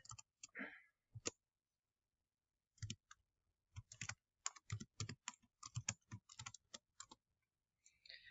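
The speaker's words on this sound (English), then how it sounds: "typing it in just like we see it" Keys clack on a computer keyboard in quick, irregular bursts with brief pauses between, close and crisp in an otherwise quiet room.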